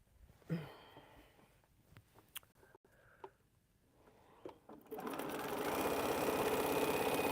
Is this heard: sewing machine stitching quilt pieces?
yes